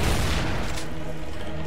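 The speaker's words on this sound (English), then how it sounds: "We use the heavy pistols, and now quick kill one of them." Heavy pistol fire in a speedrun video game, a dense burst of booming shots at the start that tails into a rumbling low roar, loud and close with no talking.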